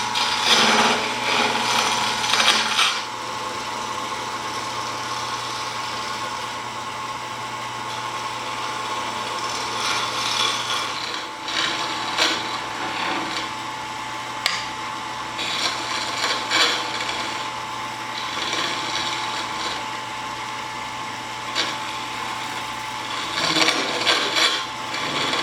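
Carbide lathe tools cut a hybrid handle of 3D printed infill and epoxy resin, giving a continuous scraping, rasping turning noise over a motor hum, with intermittent louder bursts as the tool bites.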